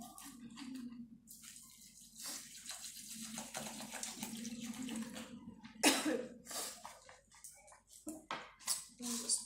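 Rice grains and water pouring and splashing into a bowl while making rice water, with clinks and a cough, close by and uneven.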